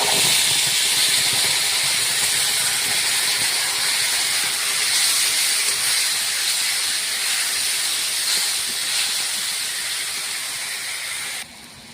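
Green chillies, ginger and two garlic cloves hit hot oil for a fish curry and sizzle with a loud, steady hiss up close that fades slightly just before the end.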